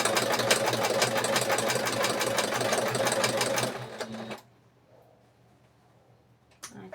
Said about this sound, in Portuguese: A orelhinha a gente costura no risco,